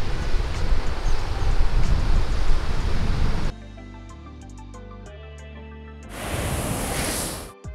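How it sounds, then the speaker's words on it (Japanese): Surf breaks on an Okinawa beach just after a typhoon has passed, a loud, dense wash of waves for the first few seconds before it cuts abruptly to quieter music. "ビーチに着きました"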